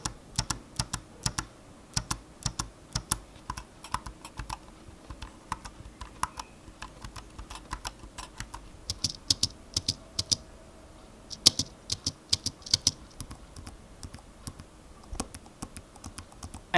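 A BK3001 wireless clone of Apple's Magic Keyboard is typed on at a steady pace for a long stretch, each low-profile key press giving a soft, close, crisp click with no talk.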